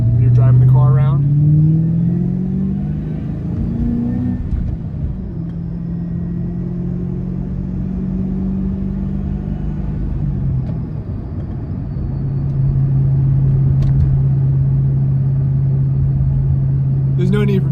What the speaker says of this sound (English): there's no need for me to talk when you can hear that supercharger line